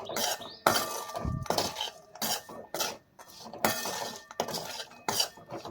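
Spoon or spatula scraping and clinking in a pan while salt and red chili powder are mixed into a spiced sabudana khichdi tempering, in irregular close bursts with brief pauses.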